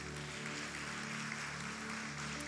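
A church congregation applauds in a dense, steady wash of clapping that holds without a break, heard at moderate distance.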